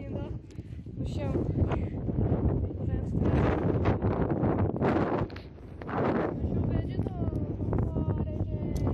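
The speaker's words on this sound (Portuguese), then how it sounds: "Olha o vento de novo." Strong wind buffeting the microphone on a beach, roaring in long gusts with a brief lull midway, while someone talks over it.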